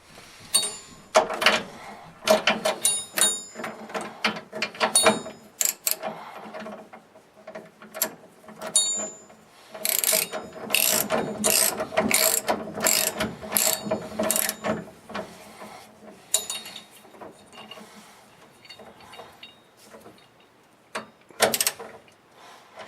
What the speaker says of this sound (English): go ahead and run it in with the socket ratchet.